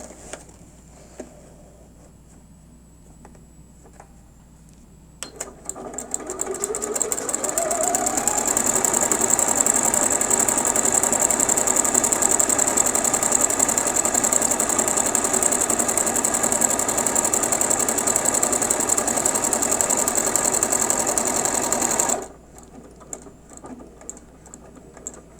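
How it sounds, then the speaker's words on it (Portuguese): A sewing machine with a straight quilting foot sews decorative stitch 22 in one long, steady, close mechanical whir lasting about seventeen seconds, bracketed by quiet panel clicks. "Agora eu vou escolher o 22. Eu venho aqui no meu painel, seleciono o"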